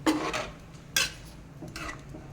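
Curry being stirred in a cooking pot, with a few short scraping and clinking strokes of a spoon against metal, each a brief burst separated by pauses, close and moderately loud.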